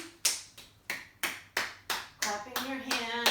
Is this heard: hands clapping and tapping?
yes